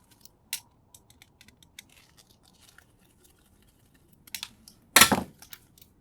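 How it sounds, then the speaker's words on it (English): Cutters snip wires while a boombox radio is scrapped. Small sharp clicks and handling ticks are scattered through a quiet room, capped by one louder crisp snip near the end. "Clip a few wires, clean it up."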